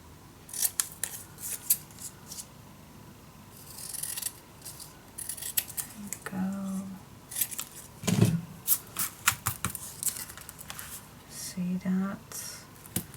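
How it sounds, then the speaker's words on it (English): Scissors snip through paper and patterned cardstock while trimming pieces for a Stamperia Desire mini album, several short crisp cuts in bursts, with someone speaking intermittently in between. "Alright, so if I'm going to cut this down, then it will be fitting nicely."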